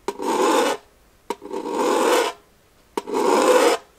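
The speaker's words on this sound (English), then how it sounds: "So this is what dragging a plier lightly over the BlasterParts mag sounds like." Pliers are dragged lightly across a BlasterParts plastic Nerf banana magazine in three separate strokes. Each stroke makes a close, scratchy rasp, with short quiet gaps between them.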